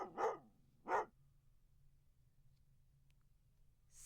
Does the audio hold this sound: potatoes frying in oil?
no